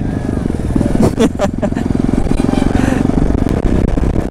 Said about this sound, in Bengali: রেস করবা Z900 নিয়ে এসেছি দেখো এটা Z900